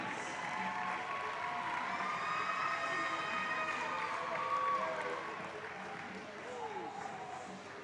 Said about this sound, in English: One more round of applause for our 2016 senior class.